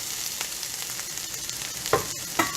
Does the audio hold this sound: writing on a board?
no